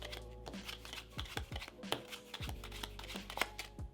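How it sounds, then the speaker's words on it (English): Playing cards being shuffled, a series of crisp riffling bursts and soft slaps, close up and fairly quiet, with no talking. "one more time, we'll shuffle it up"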